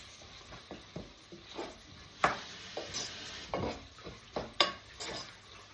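Beef curry in a pot being mixed with a spoonful of mutton curry spice: a run of scraping, clinking stirs with soft sizzling underneath, each stroke distinct and close.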